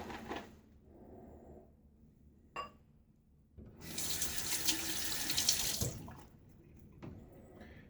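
Lukewarm hard water runs from a tap into a sink while a shave is being prepared. It makes a steady rush for about two seconds between quieter clinks and handling sounds.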